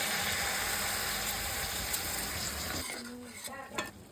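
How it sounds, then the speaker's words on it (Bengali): Chicken sizzling and crackling in a hot pan, fading down near the end as a few utensil clinks and a brief faint sound come through. "চিকেনটা অ্যাড করার পরে সব সুন্দর করে একটু ভেজে নিতে হবে।"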